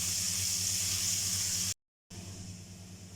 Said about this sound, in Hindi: 1 टेबलस्पून इसमें लहसुन अदरक का पेस्ट ऐड कर देंगे और इसको 30 सेकेंड्स के लिए भुनाई कर लेंगे।